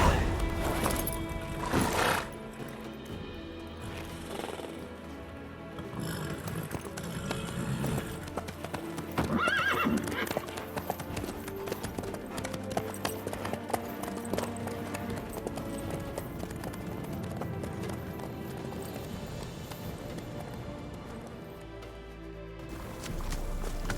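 A horse in The Witcher 3 moves with fast, rhythmic clip-clop hoofbeats and occasional whinnies over a continuous game soundscape, with faint voices now and then.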